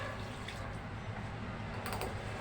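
Tap water pours into a pot of rice in a home kitchen, a continuous close, moderate splashing and trickling with a brief brighter gush near the end.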